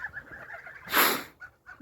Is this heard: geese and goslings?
yes